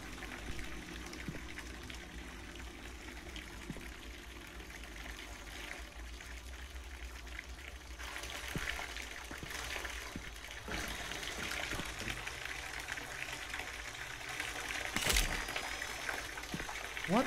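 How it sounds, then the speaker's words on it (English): Water runs steadily from a faucet in the horror video game Visage, a faint continuous hiss and trickle with occasional clicks and a louder swell near the end. "Faucet off."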